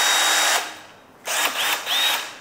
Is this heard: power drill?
yes